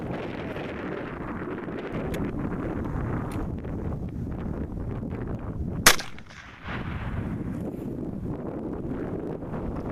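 A single sharp, loud gunshot from a Marlin 336 lever-action rifle cracks outdoors in cold, blustery conditions, standing out above steady wind rumble on the microphone, followed by a brief dip before the wind noise returns.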